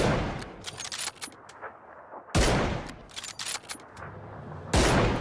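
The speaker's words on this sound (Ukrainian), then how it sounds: "Ні, це десь справа стріляють." Bursts of rapid gunfire in PUBG crackle loudly, broken by short pauses, with two heavy, close blasts standing out among the volleys.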